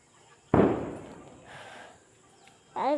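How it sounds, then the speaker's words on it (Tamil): A single sharp firecracker bang during Karthigai Deepam festivities, followed by a crackling tail, then a quieter rumble and another burst starting at the end, heard from a distance. "வெடிலாம் வெடிக்கிறாங்க"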